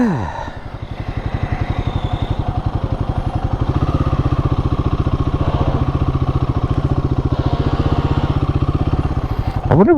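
Royal Enfield Guerrilla 450 motorcycle engine thrums steadily as the throttle is raised a little, a loud, close, even pulsing rumble with a slight rattle that holds for several seconds.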